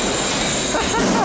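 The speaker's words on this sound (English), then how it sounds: "just watching these doors open and the train comes flying down" A ghost train ride car at an amusement park rolls along rails with a loud, continuous rumbling clatter and faint squeal, close by.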